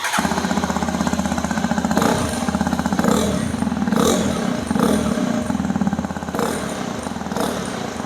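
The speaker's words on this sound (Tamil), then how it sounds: "இப்போ எக்ஸ்பல்ஸ் 210க்கான எக்ஸாஸ்ட் நோட்டு கேட்கலாம்" Hero Xpulse 210 motorcycle exhaust, a loud, close, steady idling thump with a rapid chugging pulse and occasional mild throttle blips, running continuously with no talking.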